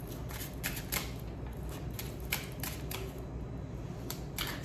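Tarot cards handled and shuffled in quick papery bursts, a steady run of light riffles and taps spread through the stretch at close range, with no talk over them.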